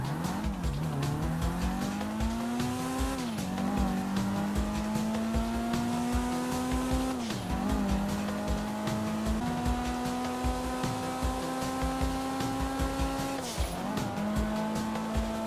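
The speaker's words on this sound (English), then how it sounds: "We decided to put the Kuruma to a test of 0 to 60 on an empty runway." The Kuruma in GTA Online accelerating from 0 to 60 on an empty runway, a steady engine drone climbing through repeated gear shifts with brief tire squeal, continuous and loud.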